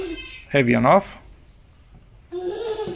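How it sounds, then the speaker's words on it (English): A house cat lets out a clear, rising meow up close as a child plays with it, then a second, drawn-out meow follows after a pause, with a voice speaking briefly. "you can hear my daughter in the background playing with the cat"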